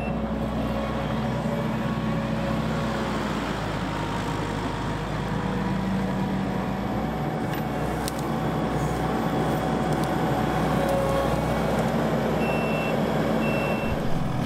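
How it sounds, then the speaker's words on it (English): A skid steer tears up ground during an irrigation system installation: a steady, loud diesel rumble runs throughout, with intermittent reversing beeps. "I bring the skid steer right through here in a moment"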